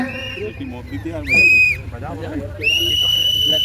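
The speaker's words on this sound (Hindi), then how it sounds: "तो सीटी बजाते रहो।" Shrill whistles ring out from a crowd at a Massey Ferguson tractor event, two long blasts rising over a busy murmur of voices and background chatter.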